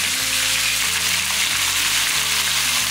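Sliced onions sautéing in a pan as about 1.25 kg of chicken goes in for a chicken curry. A loud, steady, close sizzle runs throughout with no voices.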